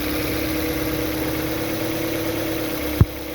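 A Hyundai Veloster engine held at raised rpm while parked with the handbrake on, a steady mid-low hum and drone throughout, ending in one brief low thump.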